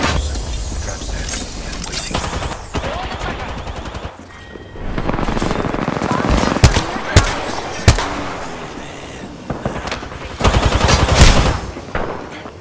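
Heavy gunfire in the battle royale game Apex Legends, sustained automatic bursts with sharp individual shots cracking through, loud and close, mixed with other combat noise.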